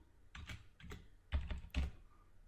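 A computer keyboard is used to type a Jupyter notebook command, heard as a few close, quick bursts of keystrokes separated by short pauses, with no talking.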